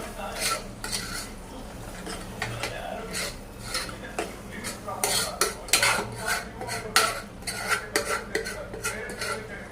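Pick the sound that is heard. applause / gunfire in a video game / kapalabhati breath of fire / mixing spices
mixing spices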